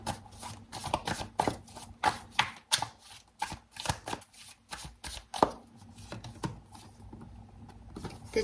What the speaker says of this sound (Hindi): मैं पहले कार्ड्स निकाल लेती हूँ